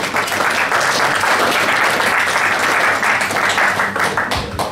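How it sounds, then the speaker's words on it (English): A crowd at a sports club's awards night claps steadily and loudly throughout, a dense, sustained round of applause with no break. "we're going to applaud them anyway"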